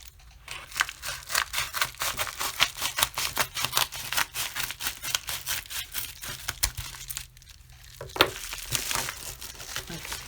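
A large paper envelope holding a small book being torn open, with continuous crinkling, rustling and tearing paper close up, briefly pausing before more handling and crumpling.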